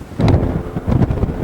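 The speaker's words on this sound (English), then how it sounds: "Very windy." Strong wind buffets the microphone on Mount Arbel, loud gusty rumbling throughout the short stretch, with no speech.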